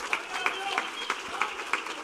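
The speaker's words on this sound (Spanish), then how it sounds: "Sigue aplaudiendo." A church congregation claps along during a Spanish-language worship service, a dense, steady patter of many hands with faint rhythmic accents, heard close and moderately loud with voices mixed in.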